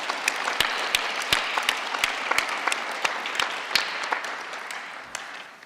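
Audience at a forum's closing ceremony applauds, a steady dense clapping with sharper individual claps standing out, fading slightly toward the end.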